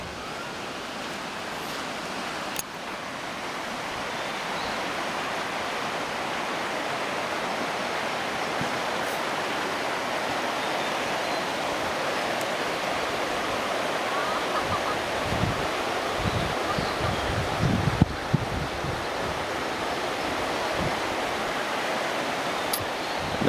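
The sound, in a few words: flowing stream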